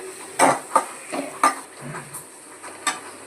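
A spoon stirs spices into prawn masala in a pan, giving half a dozen scraping clinks against the metal at uneven intervals over a faint sizzle.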